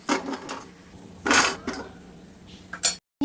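Fried green chillies are lifted out of a pan with a metal utensil, giving a few close clinks and scrapes against the cookware. The sounds are spaced apart with short pauses, and no one speaks.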